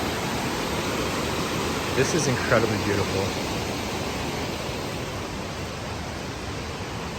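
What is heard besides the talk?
waterfall at Beacon Rock State Park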